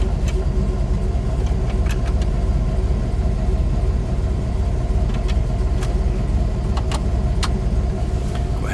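A 1970 Dodge Challenger R/T with a well-tuned carburetor idles steadily at low revs, a continuous near rumble with a faint intermittent clink like jangling keys, and no voices.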